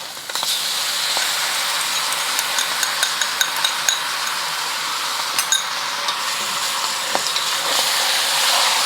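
Char kway teow noodles stir-fry in sauce in a hot wok, a steady loud sizzle with sharp clinks and scrapes of a utensil against the metal pan throughout.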